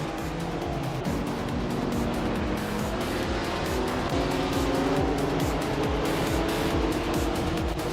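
Racing cars in a video game, among them a 1956 Jaguar D-Type, with engines droning steadily and loudly throughout, shifting pitches, and tires squealing as the pack circles without a break.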